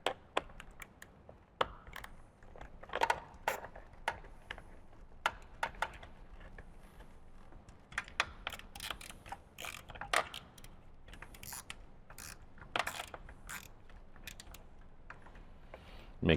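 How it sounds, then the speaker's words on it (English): A wrench tightens three bolts during an audio system installation on a Harley-Davidson motorcycle, producing scattered close clicks, ratcheting taps and small metallic knocks at an irregular pace, fairly quiet. "you're going to go ahead and tighten up all 3 bolts in here."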